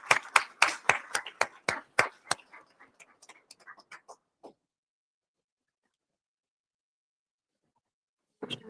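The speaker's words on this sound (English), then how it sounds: "I request each one of you to please give them a huge round of applause" Conference audience clapping: a handful of loud, sharp claps in a quick rhythm that thin out and fade within a few seconds, followed by near silence and then a brief renewed sound at the end.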